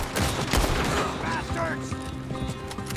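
Gunfire from a Red Dead Redemption 2 shootout, with rapid, loud shots close by in a continuous barrage and voices speaking over the din.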